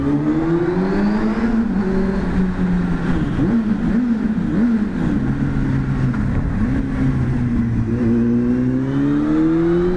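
A 1999 Honda Hornet 600 motorcycle engine runs loud and close, its pitch swelling and dipping as the throttle is blipped and held, kept under half revs, with no voices.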